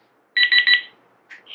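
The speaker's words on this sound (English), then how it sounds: "So I don't love that it makes a constant beeping sound." A Reizen talking digital cooking thermometer gives three quick, loud electronic beeps in a row, with a brief fainter tone following after a short pause.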